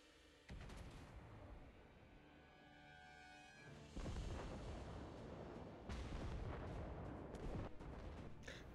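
A battleship main-gun salvo from a naval video game, Soyuz firing on Iowa: a few heavy, booming blasts in sequence, loud and close, each followed by rumbling decay, with no talk.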